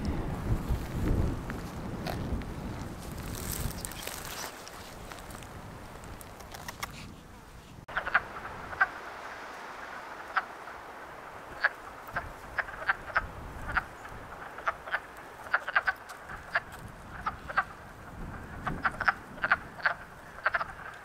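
Frogs croak repeatedly in a pond in spring in Quebec, sharp calls popping up at an irregular rhythm over a steady background chorus, fairly close and clear.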